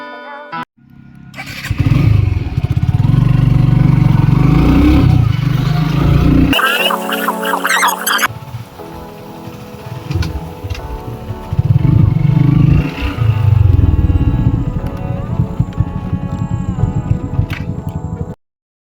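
A Suzuki Gixxer carburetor disc-brake motorcycle engine runs loud and close, rumbling and revving in repeated bursts with a brief lull in the middle.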